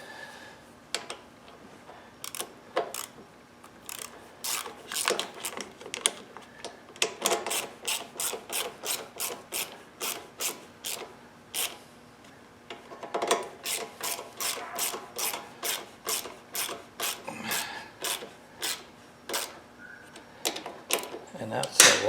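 A hand ratchet clicks in quick rapid runs while tightening bolts on a Husqvarna HU800AWD lawnmower, close and crisp, in bursts separated by short pauses, with a faint background hum between strokes.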